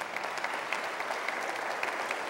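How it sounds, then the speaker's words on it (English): A steady wash of audience applause at a university address, many hands clapping densely and evenly throughout, with no talking over it. "I think they deserve a round of applause"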